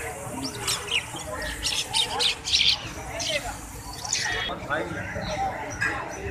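Parrots at a bird market in Lalokhet, Karachi, giving repeated sharp squawks and chirps of middling loudness beneath people talking close by, over a busy market hum.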